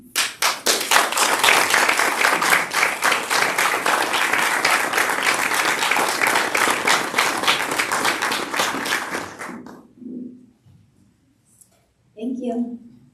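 Loud, sustained applause fills a school district governing board meeting as a committee is recognised, dense clapping lasting about nine seconds before stopping abruptly, followed by a brief spoken remark.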